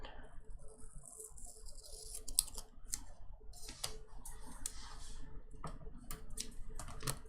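Scissors snip through washi tape stickers for a planner in a series of short, crisp clicks and cuts, close and fairly quiet, with no talking.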